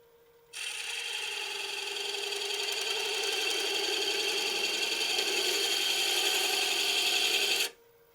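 Steady continuous rasping cut of a threading jig tool working threads into a wooden acorn box on a lathe, running evenly for about seven seconds with an abrupt start and stop.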